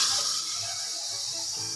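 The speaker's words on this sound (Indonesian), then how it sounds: "Terus kita kasih air kran." Tap water pours from a faucet into a container for a berry smoothie, a steady hissing gush that runs close and continuous for the whole short moment.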